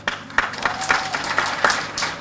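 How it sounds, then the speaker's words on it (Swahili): Seminar audience at a diplomacy event clapping together, a dense, fairly close round of applause that holds steady for a couple of seconds. "Mimi leo nataka kupiga makofi kwa ajili yenu."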